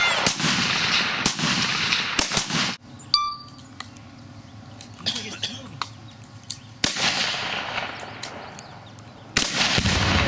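An exploding target is shot and detonates outdoors, giving several sharp loud bangs spread across the clip with quieter stretches and ringing between them.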